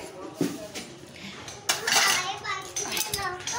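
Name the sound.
hot wok and dishes being carried for scrubbing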